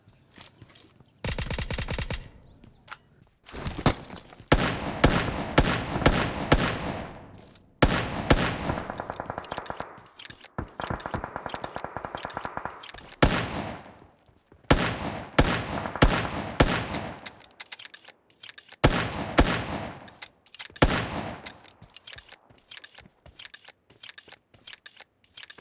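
Gunfire in the video game PUBG arrives in repeated bursts of rapid automatic shots with short pauses between volleys, crisp and fairly close throughout.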